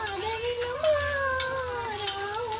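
Ginger garlic paste sizzles steadily in a pan as it is stirred, the frying hiss running under a song with a woman singing a melody throughout.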